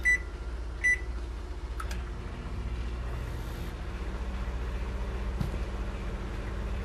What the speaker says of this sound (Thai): ไมโครเวฟครับ